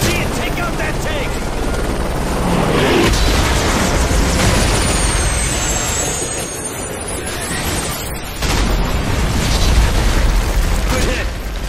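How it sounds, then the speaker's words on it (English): An RPG rocket strikes a T-90 tank in a Call of Duty: Modern Warfare 3 battle, a dull explosion bursting through the constant loud din of combat and helicopter rotor, alongside whooshing projectile streaks and voices. "Grab an RPG and take out that tank."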